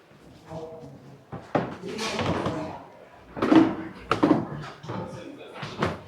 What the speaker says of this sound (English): Stairs are creaking.